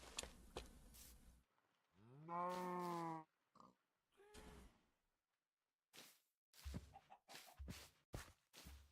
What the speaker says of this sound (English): Who let all the cows in over here?